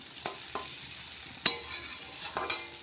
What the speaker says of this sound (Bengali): তো পেঁয়াজটা ভাজা হয়ে গেছে